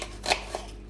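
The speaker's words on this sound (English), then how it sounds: "I'm just going to cut these into thin-ish" A kitchen knife cuts through peeled onion halves into thin slices, giving two quick crisp chops in close succession, near and moderately loud.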